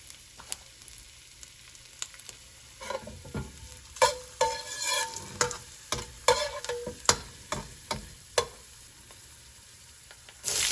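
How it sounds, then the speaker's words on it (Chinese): Chili peppers and ginger slices are stir-fried over low heat in a wok, a series of sharp scraping spatula strokes and clatters over a light, steady sizzle, close and without any talk. "开小火煸炒辣椒几下， 加入姜片，将辣椒和姜煸出香味。"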